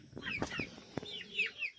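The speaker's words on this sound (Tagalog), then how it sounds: "You have your native chickens running around." Native chickens on a rural farm cluck softly in a few short, quick bursts, faint and fairly close, with no other sounds over them.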